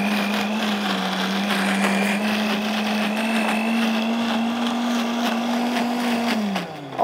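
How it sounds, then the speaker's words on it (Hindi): An electric spice grinder whirs through fried mustard seeds, a loud steady motor whine lasting about six seconds before it winds down and stops at the end. "अब मैं इसको डालूँगी इस स्पाइस ग्राइंडर में, तो हम अच्छा सा ग्राइंड कर लेंगे।"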